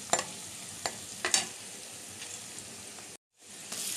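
Onions fry in oil in a pan with a continuous close sizzle, broken by a few sharp scraping stirs near the start and a short gap before it resumes.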